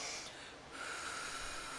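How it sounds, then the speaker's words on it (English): A slow, deep breath out through the mouth makes a soft, airy hiss that rises in the middle of the clip, close but faint against quiet background noise. "But deep breathing, breathing out through the mouth actually."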